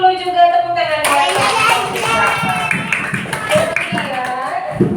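A classroom of students claps for a group, a steady, dense patter of hands close by under a teacher's voice.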